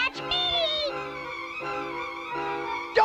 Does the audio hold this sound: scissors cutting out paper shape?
no